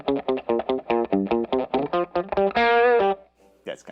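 Electric guitar played through a Fender MTG Tube Distortion pedal, a quick run of evenly picked distorted notes rising in pitch, then a sustained ringing chord that cuts off, loud and close with no talk.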